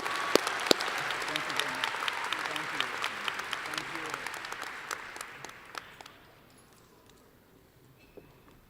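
At a Norwalk Community College graduation ceremony, an audience applauds the graduating students with sustained, dense clapping that fades out after about six seconds, leaving a quiet hall with a few scattered claps.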